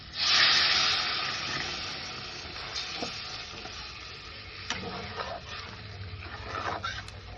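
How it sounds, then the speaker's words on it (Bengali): Hot water poured into a simmering egg omelette curry, a loud hissing rush of steam at the start that settles into steady bubbling and sizzling, with a few light utensil knocks near the end. "এবার এই গরম জলটা দেওয়া হচ্ছে"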